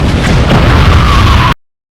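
A car smashes into traffic in a racing video game's crash mode, a loud sustained explosive roar with heavy low rumble and a tonal whine rising through it, cutting off abruptly after about a second and a half.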